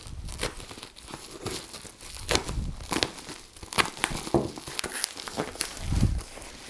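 Camera packaging bound in orange tape is unwrapped, giving close crinkling and crackling with short tearing bursts and soft handling thumps, uneven and moderately quiet.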